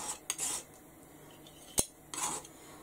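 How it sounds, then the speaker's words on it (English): A metal utensil is set back into a cooking pot, giving two soft clinks and a sharp tap in a quiet room with nobody talking. "So I need to put this back in the pot"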